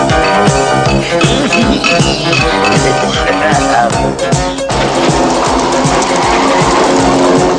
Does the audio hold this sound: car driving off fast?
yes